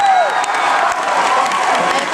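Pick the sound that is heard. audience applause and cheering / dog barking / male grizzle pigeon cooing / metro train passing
audience applause and cheering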